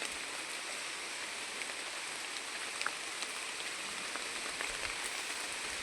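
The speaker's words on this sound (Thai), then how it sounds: "ฝนกำลังตกนี่ตกตลอดเลย" Steady rain falling outdoors, a constant soft hiss of drops pattering on surfaces with occasional sharper drips, no voices present.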